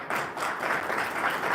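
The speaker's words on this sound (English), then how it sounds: "Look who just led the clapping." Audience applause at a city council meeting in Englewood, Colorado, a steady wash of hand clapping from a crowd, moderately loud and continuous with no speech over it.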